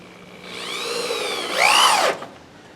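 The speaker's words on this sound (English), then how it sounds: "I'm just screwing this down temporarily, just so every board will set straight." A power drill drives a screw down into pallet boards. The whine climbs and holds steady, then surges louder as the screw seats and stops abruptly. Close and alone, with no talk.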